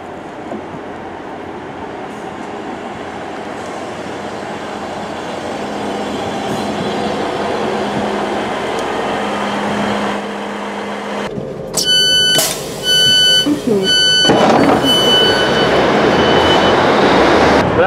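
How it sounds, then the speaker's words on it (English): A Class 158 diesel multiple unit running through a Calder Valley Line railway station, a steady rumbling train approach building in loudness, followed by squeals, clatter and a brighter tonal whine near the end. "this should be a Class 158 diesel multiple unit"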